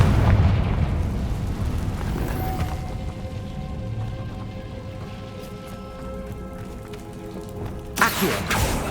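A Confringo fire spell in Hogwarts Legacy bursting with a deep boom, its rumbling tail fading over several seconds before a sharp crackling blast near the end.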